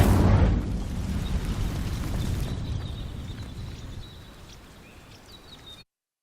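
Incendio fire spell setting dry vines alight in Hogwarts Legacy: a sharp burst of ignition at the start, then a sustained crackling roar of burning that slowly fades before cutting off.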